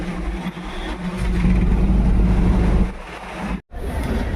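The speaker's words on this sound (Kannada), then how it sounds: "ಇವಾಗ ಬಸ್ ಬಿಡ್ತು." A city bus in Bengaluru pulls away from its stop with a steady, loud engine drone and low rumble from inside the cabin, then a brief drop as it shifts gear before picking up again.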